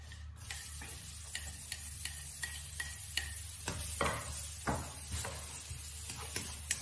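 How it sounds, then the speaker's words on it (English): Onion sweating in a hot pan with a little oil, a faint steady sizzle with occasional light stirring clicks and ticks, close and quiet. "Heat that up, and we're gonna basically sweat the onion."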